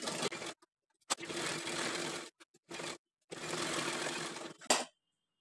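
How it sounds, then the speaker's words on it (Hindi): Close sewing machine running around the edges of net fabric for a small doll dress, in several bursts of rapid mechanical whirring of varying length, broken by short gaps and clicks. "हम इसे चारों तरफ से एक बार सिलाई लगा देंगे"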